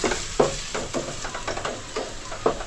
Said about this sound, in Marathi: आता हा कांदा आहे ना चांगला फ्राय करून घ्यायचा.